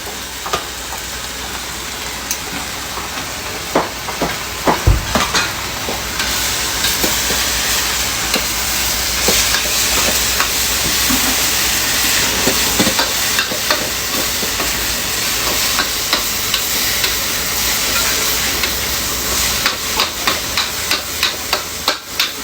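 Canned-fish tom yum fried rice is stir-fried in a pan with a steady, dense sizzle. Irregular scraping and clacking stir strokes run throughout, and no one speaks.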